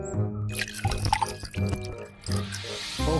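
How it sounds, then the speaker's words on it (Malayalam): Hot water poured into a container in several short bursts, with splashing and dripping, close up and without talk. "നമുക്ക് ഇതിനകത്തോട്ട് ചൂടുവെള്ളം ഒഴിച്ചു കൊടുക്കാം"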